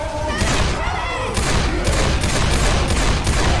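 Dense, rapid gunfire from the Left 4 Dead 2 zombie shooter, a sustained loud barrage of overlapping shots with heavy low booms throughout, while player voices can be heard faintly beneath it.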